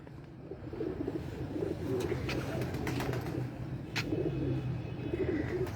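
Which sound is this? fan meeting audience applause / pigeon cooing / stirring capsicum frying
pigeon cooing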